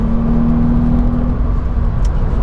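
A Volkswagen Up GTI engine pulls hard at around 5,500 rpm while driving, a loud, steady in-cabin drone whose tone drops as the revs ease off, over constant road noise, with no talking.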